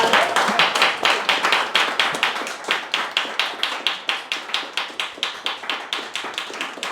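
Audience clapping in unison at a Republic Day poetry event, a steady, loud rhythmic beat of hands striking together at a brisk even pace, continuing without talk.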